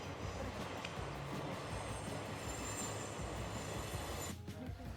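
A train rumbles steadily past on rails near a temple on a trek route, its broad, continuous roar holding loud and close for nearly the whole stretch before dropping off abruptly at the very end.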